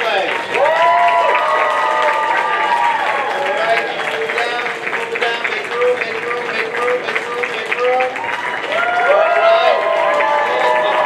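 Audience applause and cheering at a kids costume contest at a 2022 convention, sustained loud crowd noise with clapping and excited children's voices and shouts rising and falling throughout.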